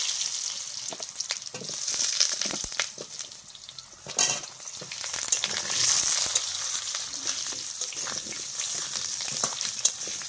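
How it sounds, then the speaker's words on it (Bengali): Potatoes sizzle and crackle steadily in hot oil, with occasional scraping and stirring sounds from a utensil in the pan. "আলুগুলো আমি আগে খুব ভালো করে ভেজে নেব"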